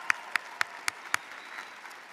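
A few isolated claps at a graduation ceremony, about five sharp, evenly spaced hand claps over two seconds, faint and sparse rather than a full round of applause.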